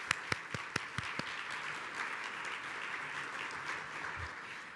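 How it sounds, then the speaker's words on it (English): An audience applauds to thank the hosting museum: a few sharp, separate claps open, then swell into steady, dense clapping from the crowd that holds through to the end. "let's give the museum a wonderful round of applause for hosting us"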